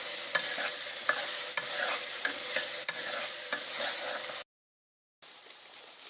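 Maggi noodles fry in plenty of hot oil with a loud, steady hiss and crackle, stirred close up, before a brief drop to silence and then the sizzling resumes.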